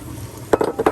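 Chopped onion tipped into hot roasting Christmas stuffing in a pan, a soft low hiss jumping into two quick, loud sizzling bursts close up, with no voices.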